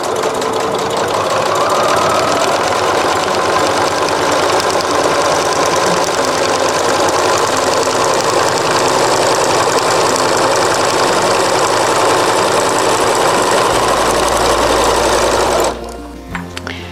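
A sewing machine runs a long lengthened stitch along a channel quilting row, a loud, continuous, fast mechanical whir for about fifteen seconds before stopping abruptly.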